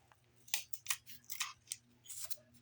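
A hobby knife slices into a small plastic part from a 1/144 scale HG model kit, giving a series of short, crisp scraping cuts close up, about eight quick strokes in an uneven rhythm with no talk.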